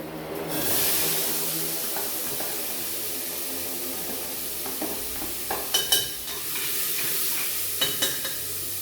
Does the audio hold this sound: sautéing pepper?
yes